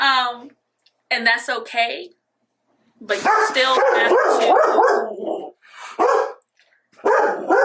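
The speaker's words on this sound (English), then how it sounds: "He barks at anything running on the street." A pet dog barks several times, loud and nearby, in short bursts with pauses between them. Someone talks over and between the barks.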